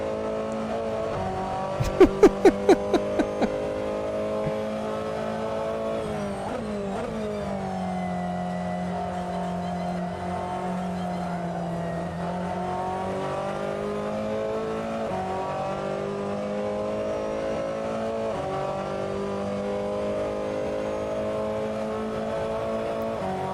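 A Ferrari 488 GTLM race car's engine drones loudly and continuously at Mugello in Assetto Corsa, rising and falling as it accelerates and shifts, with a short burst of rapid clicks near the start.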